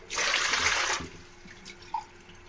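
Water from a glass is poured into a cooking pot for carrot rice-flour vadiyalu, a short, bright splashing rush lasting about a second, then a small drip, close and fairly quiet.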